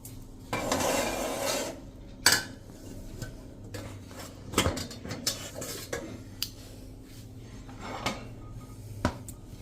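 A steamed dhokla plate comes out of the steamer with sharp metallic clinks and clatters of steel dishes, scattered across the stretch against a quiet kitchen background.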